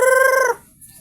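A Juloano rooster lets out a single short, loud, close crow with a bright, ringing, tonal quality that breaks off after about half a second into near silence.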